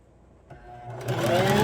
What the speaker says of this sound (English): Make sure you back stitch so that you lock that seam in place.